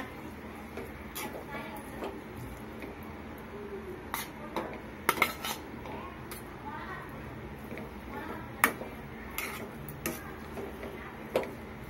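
A spoon mixes cooked rice into tomato rice in a pot, with scattered metallic clinks and scrapes against the pot under continuous talking.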